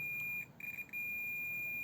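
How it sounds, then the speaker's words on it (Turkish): A multimeter's steady, high continuity beep sounds almost continuously, with two short breaks near the start, over a faint low hum. "Bip kademesini aldım bakın böyle. Ötüyor."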